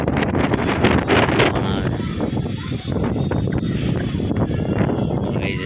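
Strong wind roars and buffets against the microphone in a constant rush while people talk underneath.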